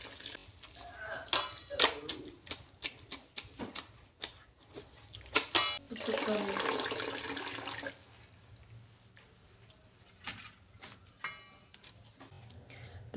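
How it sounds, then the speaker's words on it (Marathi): Dill greens are washed under tap water. Scattered clinks and drips lead into about two seconds of steady running water, followed by lighter handling sounds and splashes. "भाजी आता धुवून घेऊया"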